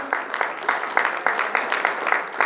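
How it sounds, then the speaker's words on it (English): Audience applause at a guests-of-honour event in Goa, close and loud rhythmic clapping in regular pulses, steady throughout without voices. "A round of applause."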